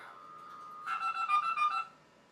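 A dial-in modem on a SCO OpenServer 5 system dials out: a brief steady tone followed by a quick series of about six tonal dialing pulses, fairly faint and alone.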